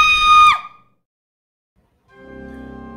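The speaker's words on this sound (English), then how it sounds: "her screams could be heard all the way down the street" A woman gives a loud, piercing scream that breaks off suddenly, in a spoken horror tale about an old man in a portrait. About a second of silence follows, then a low, sustained tonal drone fades in.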